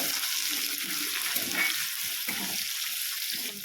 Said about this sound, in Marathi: तेल गरम झालेले, त्यात आलं लसणाची पेस्ट टाकूया आणि त्याचे हलवून घेऊया।